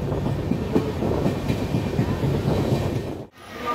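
Passenger train of the Dhauli Express running into Bhubaneswar, heard from on board as a steady rumble with rhythmic wheel clatter, ending in a brief sharp dropout.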